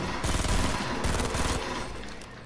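Rapid automatic gunfire in Fortnite rattles loud and close in dense bursts, with a brief break before a second burst. The firing then trails into a fading wash of noise.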